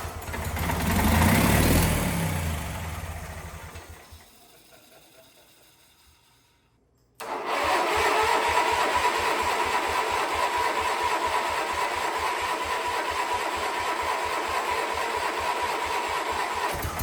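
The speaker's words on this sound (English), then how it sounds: "dump some gas down the carb and see if it'll start" A Wheel Horse lawn tractor engine with gas poured down the carb cranks with a loud whirring, fades into a brief silence, then catches and runs at a steady, loud, rhythmic idle.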